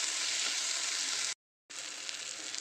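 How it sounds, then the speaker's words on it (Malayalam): Chopped tomatoes fry with onion and ginger-garlic paste for an eggplant curry, a dense, steady sizzle up close, cut by a brief moment of total silence before resuming, with no one speaking. "അരിഞ്ഞു വെച്ചിരുന്ന തക്കാളി ഇട്ട് കൊടുത്തു."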